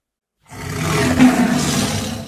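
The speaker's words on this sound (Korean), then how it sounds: "천지를 뒤흔드는 포효와 함께 신방의 낡은 방문이 박살났습니다." A single deep, rough tiger roar used as a sound effect for a tiger bursting through a wooden door. It starts after a brief silence, swells quickly and holds loud and close to the end.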